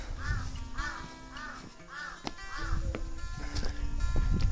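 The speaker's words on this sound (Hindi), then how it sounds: "गला बैठा हुआ है कौवा लोग का, मोटा मोटा टाइप का आवाज है" Crows at Lepcha Jagat caw hoarsely in a steady series of rough, throaty calls at a moderate distance, over low background rumble and a faint voice.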